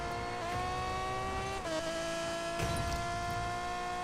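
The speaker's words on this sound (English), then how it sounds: "You got the gearbox whine too." A customized 1100-horsepower Aston Martin Vulcan race car in the Need for Speed Payback video game, its engine droning steadily with a high gearbox whine whose pitch shifts at each gear change, close and continuous with no talking.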